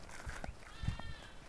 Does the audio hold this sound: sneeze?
no